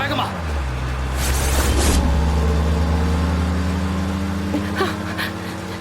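A road vehicle's engine drones and pulls away at speed, its low hum holding steady under loud, excited shouting voices close by.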